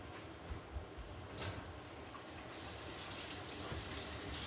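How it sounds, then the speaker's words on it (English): Hot water running from a kitchen tap, a steady splashing hiss that grows fuller as the flow increases, fairly close, with no speech. "I'm going to turn on a little bit of hot water."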